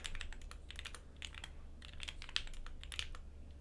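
Rapid, close clicking of keys on a computer keyboard as a command is typed into a terminal, an irregular burst of crisp taps with no voices.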